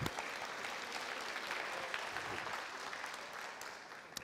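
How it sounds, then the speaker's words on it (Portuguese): A church service congregation applauds, sustained clapping from many people, with individual sharp claps standing out against a dense, even roar that fades slightly at the end. "Palmas para eles, né?"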